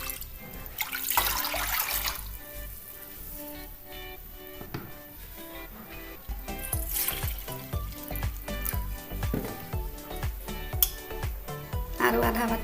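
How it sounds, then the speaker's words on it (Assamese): Water is poured into a wok for cooking rice-flour roti, with splashing and gurgling bursts that come and go over a steady background. "পানী দিছোঁ।"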